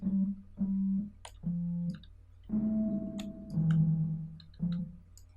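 Short synth notes made in Ableton Live 10 pluck out one after another with a soft reverberant tail, a few held slightly longer, with clicky high ticks between them.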